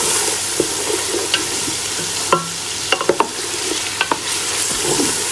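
Chicken sizzles in hot oil with spices while being stirred for a korma pilau, giving a steady frying hiss broken by sharp utensil scrapes and clicks against the pan.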